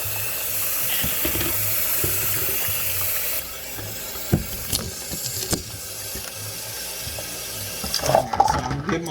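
Tap water runs steadily into a bowl in a home sink, a loud close hiss that cuts off partway, followed by a few clinks and handling sounds.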